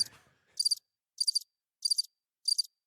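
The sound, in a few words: cricket chirping sound effect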